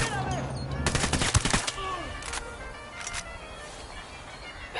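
Gunfire in Ghost Recon Wildlands, a close cluster of rapid automatic shots early on, then a few scattered single shots over quieter background noise.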